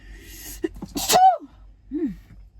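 A single loud human sneeze with a sharp intake and burst, followed by a short vocal exhale, inside a truck sleeper berth.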